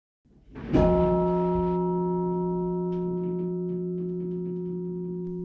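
A single heavy church bell struck once at night, a loud clang followed by a long, sustained humming decay that rings on for several seconds, resonating through a stone building.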